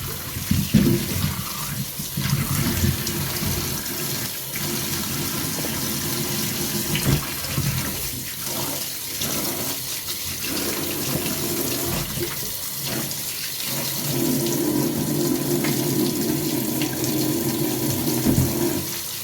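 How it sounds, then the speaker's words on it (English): Running tap water pours and splashes steadily over a pumpkin being washed in a sink for Jamaican-style curry chicken foot with hard food, a continuous close rush that shifts in tone as the pumpkin is turned. "That's my pumpkin there that I'm gonna wash off right now."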